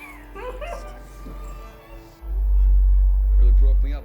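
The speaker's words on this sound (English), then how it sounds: "What dog is that? Is that a Rottweiler?" A Rottweiler barks and whimpers in a Breaking Bad scene, with short yips and whines followed by a louder, deeper stretch of barking, heard up close against a quiet room.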